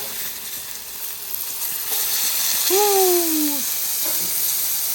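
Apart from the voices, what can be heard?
broccoli with water and butter steaming and sizzling on a griddle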